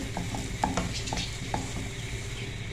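Spatula scrapes and clacks in a pan as potato sandwich stuffing is mashed and mixed with spices, a quiet steady sizzle underneath with a few sharper knocks against the metal.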